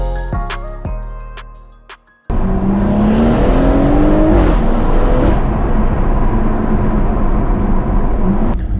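BMW M140i with a new exhaust being driven, a few sharp pops and crackles at first, then a loud, sustained engine roar and rising revs from inside the car.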